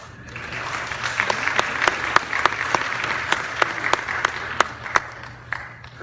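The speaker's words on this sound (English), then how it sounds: "applaud these pathfinders on the research that they did about Sojourn Truth" A church audience applauds young researchers presenting on Sojourner Truth, a sparse, uneven clapping with several loud individual claps standing out sharply over a softer background of hands and a low hum.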